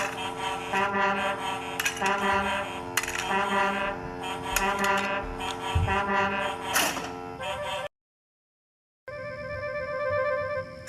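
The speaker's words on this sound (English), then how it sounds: "It's a new invention, a railway foghorn, said Sir Topham Hatt." A loud, sustained toy railway foghorn with a steady harmonic blare that repeats in long blasts, cutting off briefly before sounding again, heard alone without talk.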